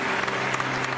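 Studio audience applause on a Pakistani television game show: a brief, thick burst of many hands clapping, steady and fairly loud with a faint hum beneath.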